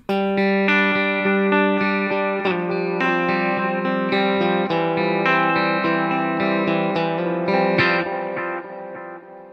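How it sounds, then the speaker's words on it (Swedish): Sustained distorted chords run through a ping-pong stereo delay set to matching times, so the feedback repeats bounce from side to side, steady and loud throughout and slowly fading at the end, with no voices. "nu hör ni att det går från sida till sida och det har beroende på att feedbacken går över till den andra sidan"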